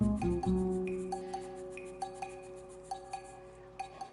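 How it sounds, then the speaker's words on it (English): A whisk clinks rhythmically against a glass bowl while stirring sugar and cake flour together, making light scraping rubs punctuated by regular faint taps, close up and with no talking. "Going to whisk those up a little bit."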